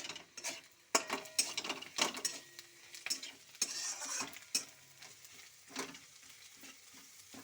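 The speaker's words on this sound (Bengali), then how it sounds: "লঙ্কাগুলো দিয়ে দিয়েছি, সব ভাজা হবে সুন্দর করে" Onions, ginger and green chillies frying in a pan for a pasta dish, with quiet sizzling beneath repeated sharp scrapes and clicks of stirring, fairly close and moderately soft.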